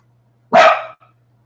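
A single sharp dog bark rings out close by against a quiet background with a faint steady hum, followed by a tiny softer trailing sound.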